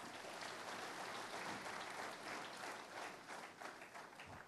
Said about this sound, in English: So I genuinely want all of you to applaud yourselves as unsung heroes.